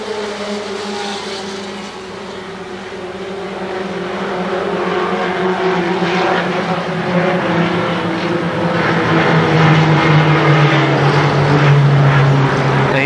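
Race cars at Winchester Speedway roar as they accelerate under the green flag. A dense, rising engine blare with climbing pitch builds steadily louder across the pack.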